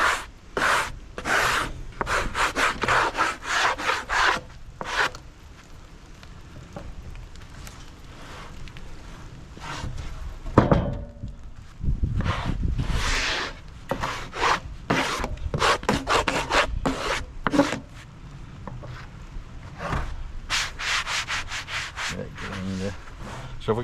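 A sawmill cuts through a small birch log with rough, woody rasping in repeated bursts and short pauses, close and fairly loud throughout.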